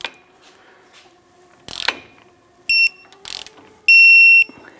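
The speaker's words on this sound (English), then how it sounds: "Torque our lower ball joint to 46 foot-pounds." Torque wrench on the lower ball joint of a 2008-2013 Nissan Rogue during front subframe bushing work, giving two short, loud ringing clicks as it reaches setting, with brief clattering handling in between.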